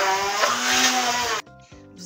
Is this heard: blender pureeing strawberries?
yes